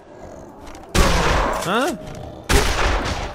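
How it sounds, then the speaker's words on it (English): Two loud shotgun blasts from the video game Dead Island, each a sharp burst with a short decaying tail about a second and a half apart, with a brief spoken exclamation and a sweeping electronic tone between them. "Shotgun to the face!"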